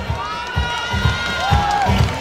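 A crowd at a children's and youth coffee cupping contest in Planadas, Tolima cheers and shouts loudly and continuously, with rhythmic clapping or drumming thumps and a whistle-like tone rising over the noise.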